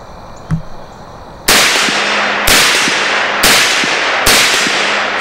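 An M-2 carbine firing semi-automatic, four loud, sharp shots spaced about a second apart, each with a brief echoing decay, after a quieter lead-in.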